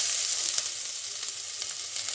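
Onions sizzling and frying in a hot pan for mooli paratha, a steady close crackle with soft stirring clicks and no voices.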